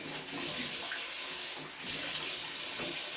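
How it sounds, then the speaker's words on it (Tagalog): Hands are washed under a running kitchen tap, the water pouring in a steady, close, full-bodied rush with small splashing changes as the hands move through the stream, and no talking. "maghugas muna ng kamay"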